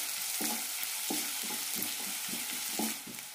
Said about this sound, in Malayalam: നന്നായി വഴറ്റാം.